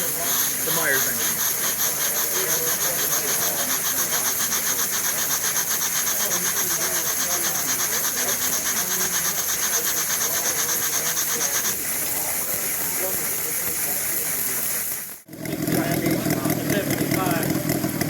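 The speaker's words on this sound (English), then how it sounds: "the Myers engine." A Myers model engine running at an Indiana model engine show, a steady fast mechanical chatter with rasping, buzzing overtones that continues throughout, briefly cutting out near the end before resuming.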